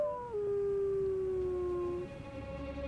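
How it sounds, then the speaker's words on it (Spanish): A white wolf, a hungry female calling for her mate, lets out one long, clear howl that holds steady and then falls away, loud and alone against faint background wind. "Pero sus aullidos revelan su posición."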